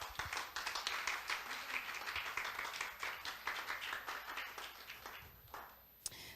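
A church congregation claps together during a sermon, a dense, fairly faint burst of many hands that fades out toward the end, with a single sharp clap or knock just after.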